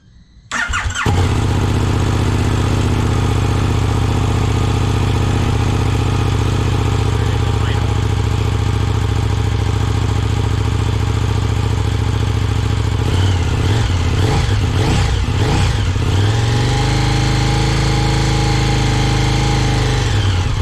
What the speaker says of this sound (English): Go ahead and start up the bike so that you can hear it with the stock exhaust.